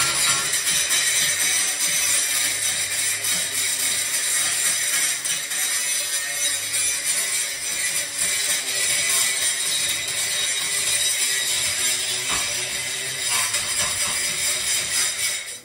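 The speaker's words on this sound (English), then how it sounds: "using a power tool, which I don't use very often" A battery-powered grinder scours old material off the back of wooden stairs during a bathroom renovation, a loud continuous abrasive whir and scraping that runs steadily for the whole stretch.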